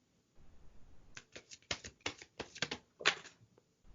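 A deck of playing cards is shuffled up close, with a quick run of crisp riffling flutters and snaps over a few seconds and no talking.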